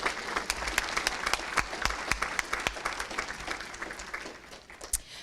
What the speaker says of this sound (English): So applaud.